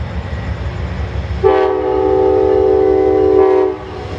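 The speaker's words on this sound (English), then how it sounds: "Amtrak 91 is right on time this morning, coming out of its station stop at Jax and moving south on the A-line" Amtrak 91 passenger train pulling out of its station stop at Jacksonville heading south, sounding a loud sustained multi-tone horn blast of about two seconds over the low rumble of rolling cars, with no talk.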